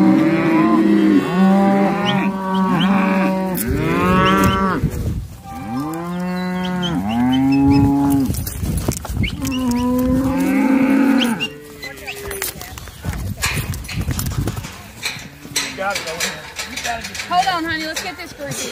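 Cattle moo repeatedly in a working pen, loud and close, with long overlapping calls from several animals and clanking gate or chute noises near the end.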